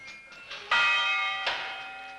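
Several bells on a circus bell wagon ring in succession, bright metallic strikes with long ringing tones that layer and fade, moderately loud.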